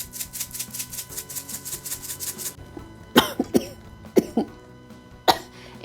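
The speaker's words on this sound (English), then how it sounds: "If you inhale Tony's, it will make you cough." Someone coughs several times after inhaling Tony's seasoning: sharp, close bursts that follow a run of rapid rhythmic tapping or shaking.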